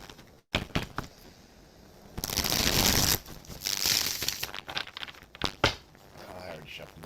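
A deck of tarot cards is shuffled by hand, with crisp riffling and papery crinkling in bursts and a longer sustained stretch in the middle, set among scattered taps and handling noises.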